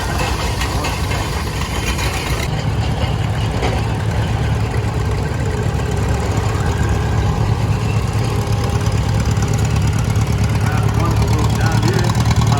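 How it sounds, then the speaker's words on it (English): Engine of a 1957 John Deere Model 412 tractor running in an antique machinery parade, a loud, steady low rumble throughout with people talking over it. "John Deere Model 412, it's 1957, owned by Jerry Spencer, North Bay."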